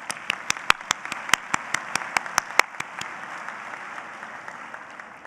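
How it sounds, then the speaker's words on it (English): Sparse applause at a dental school convocation: a dozen or so distinct claps ring out clearly at first, then thin into faint scattered clapping. "let's give them a round of applause"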